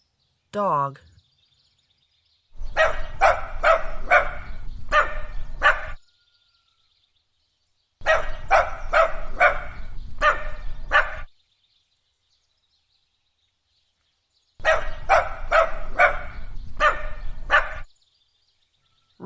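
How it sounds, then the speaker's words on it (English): A dog barks in three separate bursts of rapid, sharp barks with pauses between them, close and loud, preceded by a brief high call. "Dog."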